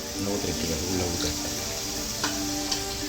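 Water pours steadily into a metal pressure cooker with a continuous splashing rush, close by, and a couple of light clinks near the end.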